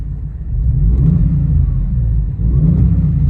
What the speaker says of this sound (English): I'll give it a quick rev.